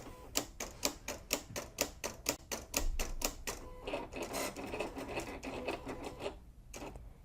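A Silhouette CAMEO cutting machine makes a test cut on Siser EasyWeed Electric heat transfer vinyl, with a quick regular series of sharp mechanical clicks and ticks that turns into a busier whirring rattle, faint and nearby with no talking.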